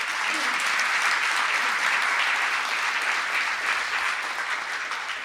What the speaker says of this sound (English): How about giving everyone that put the night together a big round of applause?